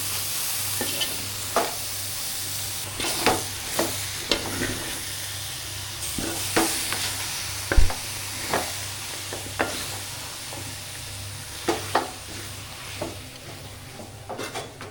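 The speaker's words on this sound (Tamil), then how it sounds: "இப்போ எல்லாம் சேர்த்து நல்லா கலந்து விட்டுருலாம்" Chicken fry with potatoes stirred in a frying pan, a spoon scraping and clinking at irregular intervals over a steady oily sizzle, close and moderately loud with no talking.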